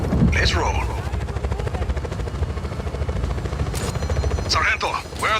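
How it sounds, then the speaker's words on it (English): Helicopter in the Just Cause 4 video game, a steady rotor thump beating loudly throughout with bursts of gunfire and game voices speaking over it. "Be advised, target is a helicopter."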